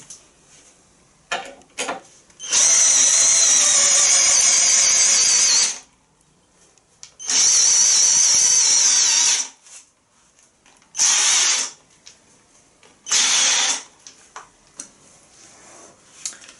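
A MEEC TOOLS 008199 cordless drill driver whirs in long, loud bursts, straining as it drives a long screw, with short pauses and clicks between runs.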